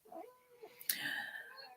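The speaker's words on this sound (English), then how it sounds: "I do have a cat that's a bit noisy today because she's in season" A female cat in heat caterwauls indoors with a brief, drawn-out yowl that rises into a sharper cry. It is fairly faint and lasts under two seconds.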